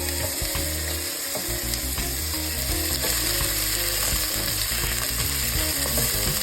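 Onions fry in a pan for Nepali eggplant curry while a utensil stirs them, a steady sizzle with repeated scraping and clicking strokes, close and continuous, a low steady hum running underneath.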